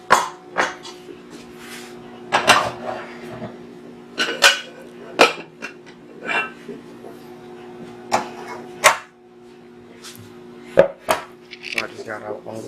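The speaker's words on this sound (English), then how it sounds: "So I just got out all the pans that I'm gonna need." Metal cooking pans are taken out and handled in a home kitchen, giving repeated clanks and knocks at an uneven pace, close and fairly loud over a steady hum.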